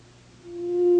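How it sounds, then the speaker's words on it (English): A pure sine wave from a synthesizer oscillator, a single steady tone that swells in loudness over one second, clean and alone. "This is a sine wave."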